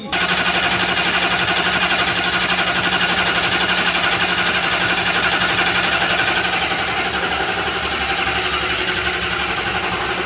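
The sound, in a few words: Dodge Duster engine cranking on its starter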